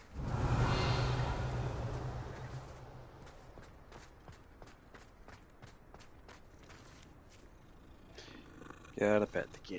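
A petted cat purrs in a video game, a soft steady rumble over a dense game soundscape, with a louder burst near the start and a short sharp sound near the end.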